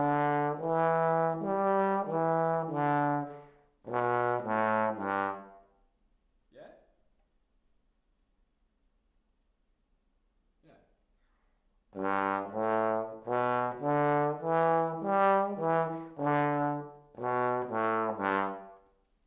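Notes of a pentatonic scale played on a melodic instrument, rising in a run of distinct tones, then a pause with faint clicks before a second descending run of loud, sustained notes.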